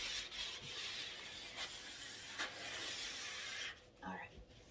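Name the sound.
sanding wood trim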